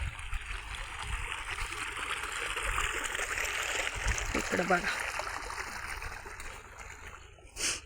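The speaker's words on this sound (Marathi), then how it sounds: "इतकं पाणी चाललंय या" Water runs steadily through a flowing stream after heavy rain, a continuous close rushing and trickling with small splashes, while a person speaks briefly over it.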